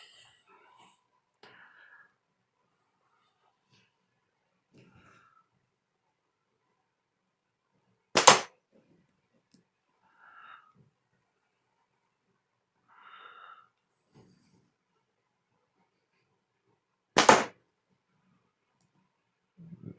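Slingshot loaded with 8mm steel balls shot at a spinner target outdoors during a blizzard: two sharp, loud metallic impacts about nine seconds apart, with faint scattered clicks and breathy sounds in the quiet between them.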